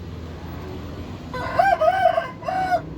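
A fighting cock of about 2.8 kg crows nearby, a loud two-part call with a brief pause, after a quiet stretch of low background noise.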